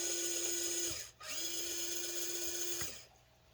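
The electric motor of an EazyRC 1:18 Triton RC truck whines at full throttle, cuts out briefly, whines again in reverse, then falls quiet, a close, steady electric tone.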